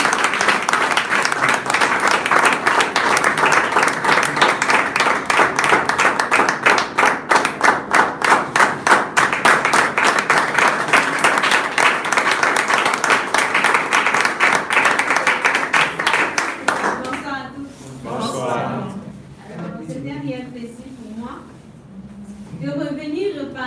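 At a seminar, an audience claps and applauds loudly and steadily, a dense crowd of hands close by. The clapping then fades out and a voice starts talking over a quieter room.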